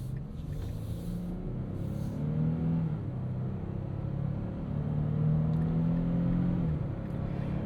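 A 2025 Nissan Frontier Pro-4X pickup with a 3.8-liter V6 accelerates on a city commute, a steady low engine drone rising in pitch as it pulls, heard from inside the cab with no talking.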